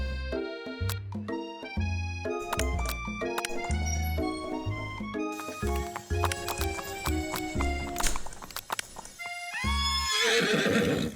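A horse in a video game neighs and whinnies repeatedly while hooves clip-clop, with layered game effects and a bright rising burst near the end.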